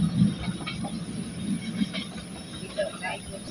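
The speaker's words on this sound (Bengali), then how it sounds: "মই যে ট্রেন আইতাছে" A train passes along a railway line at a moderate distance, a steady rumble with faint wheel squeal and clatter, while people talk nearby.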